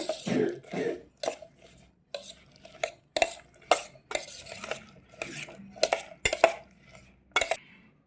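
Chopped green chilies and lemon juice are mixed for pickle, with a series of sharp clinks and scrapes of a spoon against a bowl in irregular bursts, close and fairly quiet.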